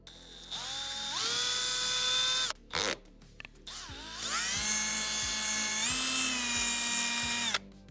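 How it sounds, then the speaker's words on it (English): Power drill boring holes for rivet nut inserts in a car's shield during an engine swap, with two long high-pitched whining runs separated by a short pause, close and loud. "So get a couple of lines marked up here, drill some holes."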